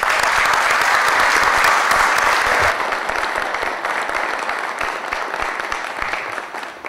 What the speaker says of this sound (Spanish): el aplauso tiene que ser para cada uno de ustedes